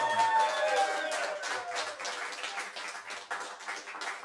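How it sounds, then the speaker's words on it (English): A theater audience at a live mentalist show at Spitfire Theater in St. Petersburg, Florida, applauds: steady, rhythmic clapping from many hands fills the room, slightly louder at the start and continuing evenly throughout. "And as Mike approached the stage, the crowd went wild."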